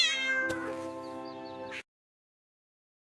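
A cat gives one clear, drawn-out meow up close, loud and tonal, then cuts off abruptly into silence.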